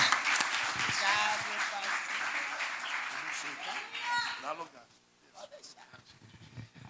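A church congregation applauds to welcome a woman preacher, a dense wash of clapping that fades out after about five seconds, with voices and cheers mixed in.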